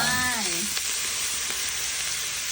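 Spicy eel stir-fry sizzles steadily in a hot pan while being stirred, with a voice briefly heard at the start before the constant frying hiss carries on alone.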